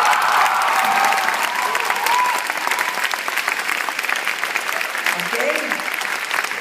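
A large audience at a keynote address claps and cheers loudly and continuously in a dense, even roar that eases slightly but keeps going throughout. A voice speaks briefly over the applause.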